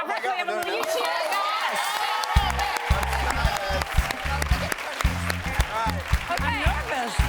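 A talk-show studio audience cheers, shouts and applauds in a sustained, lively roar, with a thumping beat pulsing underneath partway through.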